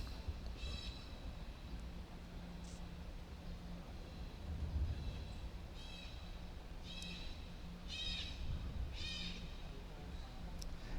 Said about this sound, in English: If you can hear some squawking in the distance, that's a sulphur-crested cockatoo